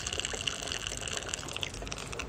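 Demineralized water flushing through the radiator cooling system of a Yamaha Tenere 660 motorcycle during a coolant change, a steady close hiss and trickle of running water with no pauses.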